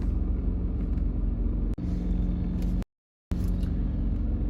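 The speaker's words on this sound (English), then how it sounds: "We got traffic everywhere." Road traffic rumbles steadily on a freeway in Saudi Arabia, a loud low roar heard from inside a moving vehicle, cut by a brief click and a short gap of silence. No talk.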